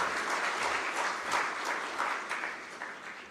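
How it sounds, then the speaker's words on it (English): An audience at an export processing zone commissioning ceremony in Mavoko, Kenya, claps to welcome the chairman, a steady, moderately distant round of applause that swells slightly and then eases off. "Could we welcome him with a clap, kindly?"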